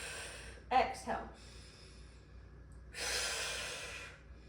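Breath during a standing glute extension exercise, with two short sharp nasal puffs early on, then a longer forceful exhale, close and alone against a quiet background.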